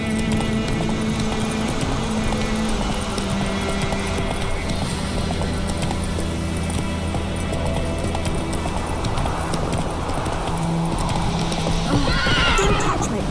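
Hoofbeats from Roach, the horse in the video game The Witcher 3 Wild Hunt, drum steadily and loudly over a constant droning background, with neighs and whinnies breaking through, and a brighter rising whinny near the end.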